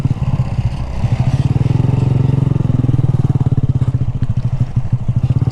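Honda Grom motorcycle ridden off-road, its small single-cylinder engine putting out a close, steady, pulsing putter that swells slightly in pitch mid-run amid rough rattling.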